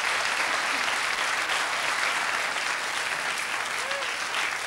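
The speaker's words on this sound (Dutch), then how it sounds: "een heel geweldig applaus van u verwacht" Studio audience on a 1983 Dutch TV entertainment show breaks into loud, sustained applause, a dense even wash of clapping that holds steady throughout.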